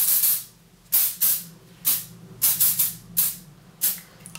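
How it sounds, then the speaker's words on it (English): Hairspray on a wedding hairstyle hisses in about eight short, sharp bursts at uneven intervals, close and crisp, with quiet pauses between sprays. "a little bit more spray to the hair"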